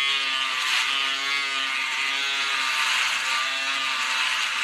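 A Braun Series 3 electric shaver buzzes steadily up close as it cuts through head hair, a continuous high whine with slight wavering as it moves.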